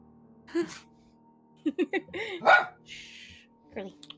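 A dog yelps and gives short startled barks after being struck in the face by a thrown toy, with people talking and gasping around it.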